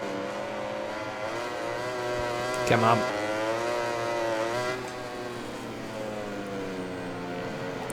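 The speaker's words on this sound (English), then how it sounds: "Little pop from the exhaust, little pops and crackles." A MotoGP 21 racing bike in the video game revs with a sustained, pitch-shifting engine whine, with a short crackling burst from the exhaust partway through as the note drops, while someone speaks briefly over it.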